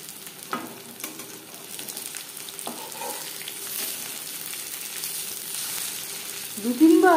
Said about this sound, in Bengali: দু তিনবার উল্টে পাল্টে মিক্সি করে ভেজে নেব।